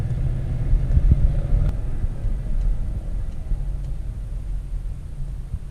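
A car drives along with a steady low rumble of engine and road noise, a faint bump or clunk marking the transmission shift early on, with no voices.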